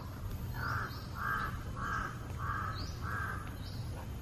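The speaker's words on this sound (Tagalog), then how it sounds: "Naririnig niyo yung uwak." A crow caws five times in an even rhythm, each harsh call clear over a low steady background hum.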